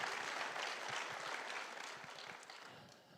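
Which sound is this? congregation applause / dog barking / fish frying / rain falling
congregation applause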